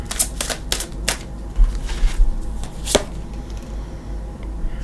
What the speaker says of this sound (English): I think I'm going to shuffle for your cards.